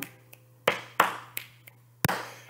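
Sharp finger snaps used as body percussion, about half a dozen crisp clicks at an uneven pace, close and alone in a quiet room.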